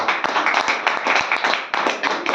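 An audience claps loudly at a Hindi-speaking gathering, a close, uneven burst of hand claps with a rough rhythmic pulse over a couple of seconds.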